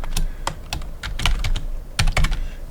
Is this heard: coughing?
no